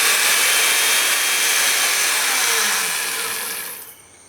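A Makita chain mortiser makes a trial cut in wood, a loud high whirring chain grind that runs steadily before tapering off and cutting out near the end.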